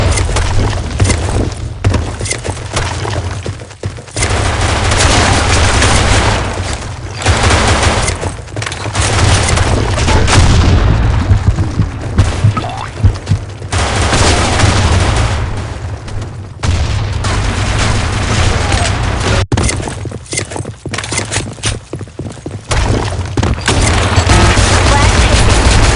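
Grenade explosions and dense gunfire from the video game Blackshot on the Sand Storm map boom and rattle nonstop, loud and close, with announcer voices calling out over the din.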